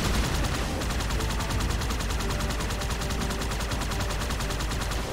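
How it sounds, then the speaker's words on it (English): Automatic gunfire from Halo 2 Anniversary rattles in a rapid, continuous stream, loud and close, as shots are fired at allies. "I'm shooting at my friends!"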